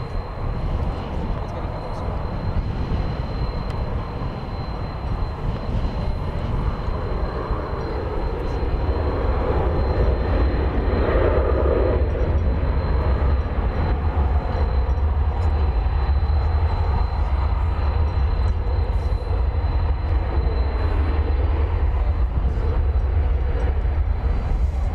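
An Atlas Air airplane at DFW Airport gives a deep, continuous engine roar that grows heavier and louder partway through, with faint voices in the background.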